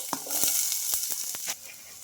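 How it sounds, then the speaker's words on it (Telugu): Chopped onions hit hot oil in a small kadai, giving a steady bright sizzle with scattered crackles and pops, close and fairly loud, easing off slightly near the end. "ఆయిల్ అయితే వేడైందండి ఇలా చిన్నగా కట్ చేసుకున్న ఆనియన్స్ అయితే వేసుకోవాలి"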